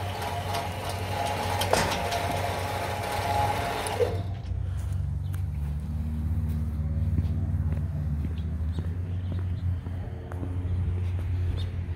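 An Eagle gate operator with pulleys hums along in a steady low drone, a gate motor running close by while an unsteady clatter fades after the first few seconds; no one speaks.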